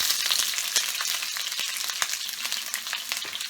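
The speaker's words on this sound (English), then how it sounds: "add 1 whole thinly sliced red onion, and we are going to make them crispy" One whole thinly sliced red onion fries in hot oil toward crispness for a chicken kofta curry, a dense, even sizzle up close with small crackles and occasional stirring clicks.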